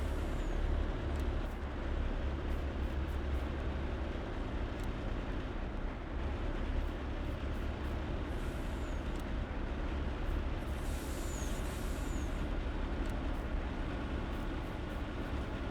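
Trucks in Farming Simulator 19 idle and push together, giving a continuous low engine rumble with several short air-brake hisses scattered through it.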